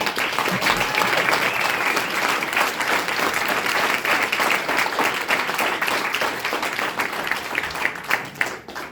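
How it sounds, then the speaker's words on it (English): A crowd applauds the campaign manager at a thank-you speech, a dense, steady wash of many hands clapping continuously for several seconds, fairly close and loud, with a faint cheer near the end. "Can we just give Daniel a round of applause?"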